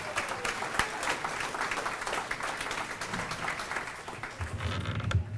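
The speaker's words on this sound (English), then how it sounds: "Give her a round of applause" A conference audience claps for a city council member, a steady wash of applause that continues evenly, with a brief creak or knock near the end as the clapping tapers.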